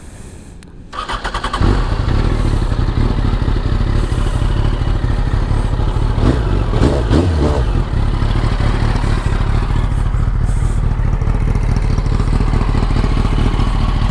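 A Yamaha FZ1 Fazer motorcycle engine cranks and catches after about a second, then settles into a steady, close idle with a light mechanical clatter.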